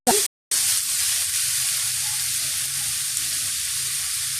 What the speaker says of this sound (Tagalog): ito po ito nagisa ako ng gulay